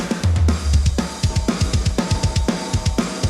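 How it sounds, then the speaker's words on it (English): A mixed metal drum kit plays without parallel compression, fast kick drum hits pounding under snare and cymbals in a tight driving pattern, loud and up front. "Without the parallel compression, the drums sound like this."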